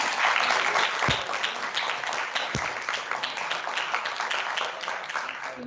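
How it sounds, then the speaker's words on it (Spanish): Steady, even applause from an audience at an agroecology seminar honoring teachers, continuous dense clapping throughout, heard at moderate distance without talk. "Bueno, pues con un aplauso,"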